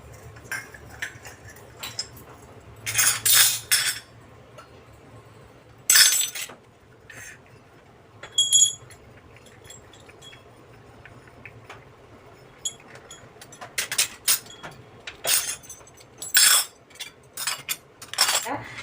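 Brass oil lamps and pooja vessels being taken apart into small pieces, giving sharp metallic clinks and clatters in irregular bursts with quiet gaps, close by.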